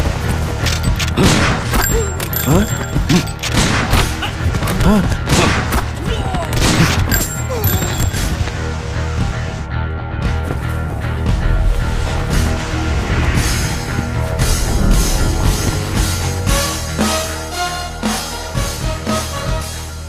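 Heavy gunfire rolls through a dramatic action film scene: dense bursts of shots and booming impacts run almost without pause for twenty seconds, loud and close, with voices breaking through here and there.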